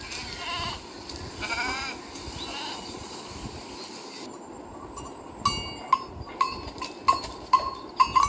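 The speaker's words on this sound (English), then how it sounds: "Sheep." Sheep bleating among farm animal sounds, a few moderately loud bleats in the first half followed by sharp metallic clinks like a cowbell repeating toward the end, with no talking.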